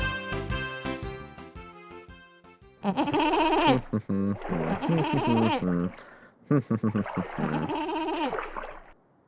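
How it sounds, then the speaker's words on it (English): Goats bleat loudly and repeatedly in long, wavering cries, several calls in close succession following a short musical passage. "We got goats."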